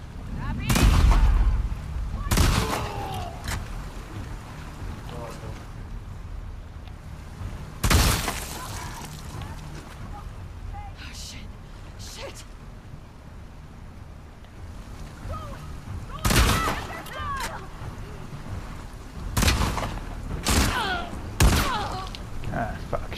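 Loud gunshots from the video game The Last of Us Part II ring out in scattered bursts, several sharp cracks spread across the scene with quieter stretches between, over a low background rumble and a voice talking.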